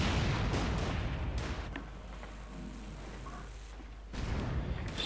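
Gunfire and artillery rumble in a Company of Heroes 2 battle, with units firing away and taking damage; dense, continuous booming and crackle, loudest at the start and again near the end, with a quieter stretch in between.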